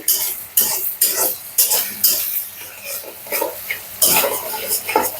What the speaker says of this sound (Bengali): আমি এটাকে খুব ভালো করে কষাচ্ছি।